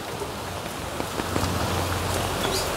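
Steady rain falls over a garden, a dense hiss of drops pattering on leaves and surfaces, close and continuous with scattered louder splashes and no voices.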